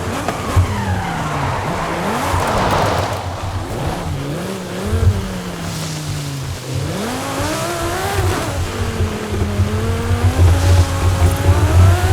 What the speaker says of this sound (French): Cette voiture-là, en tout terrain, ça ne fait vraiment pas.